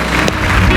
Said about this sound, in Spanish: Denles un aplauso fuerte